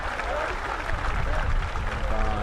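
Spectators in the stands at a Pärnu JK Vaprus versus Tallinna Kalev football match applaud, a steady broadband clapping and crowd murmur running under a commentator's voice throughout.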